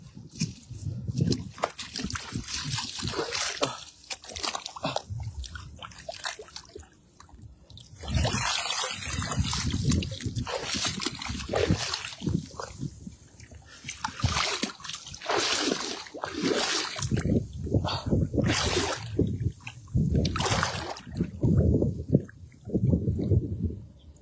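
Rising seawater on a shore as the tide quickly comes in, splashing and sloshing in irregular bursts close to the microphone, with gusty, rough bubbling throughout.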